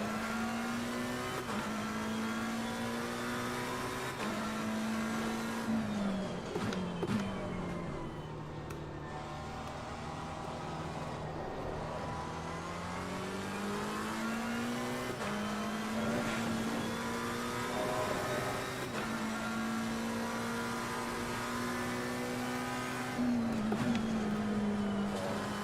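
A race car engine in the Assetto Corsa Competizione video game at the Hungaroring rises and falls steadily in pitch as it revs through the gears, downshifting and accelerating again over a long stretch, close and continuous with no voices.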